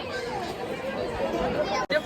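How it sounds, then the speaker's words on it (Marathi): A busy market in Kolhapur fills with dense crowd chatter, many overlapping voices forming a continuous babble close by, with a brief dropout near the end. "गर्दी बघा किती झाली आता."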